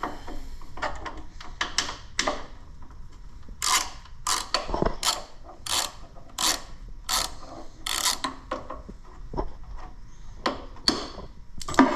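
A ratchet clicks in repeated quick bursts as it spins a bolt out on a Wheel Horse garden tractor under restoration, close and mechanical with short pauses between strokes.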